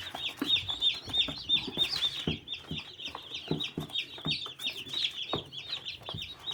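A new batch of white broiler chicks peeps constantly in a dense, high chorus of chirps, close and continuous, with light scuffling and handling noises underneath.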